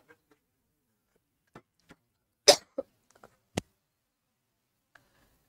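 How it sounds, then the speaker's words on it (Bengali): A few scattered coughs in a quiet room, with one loud close cough in the middle and another sharp one after it, plus faint throat sounds and small clicks in between. "খুব কাশি হচ্ছে এখন, আমার জল চাই"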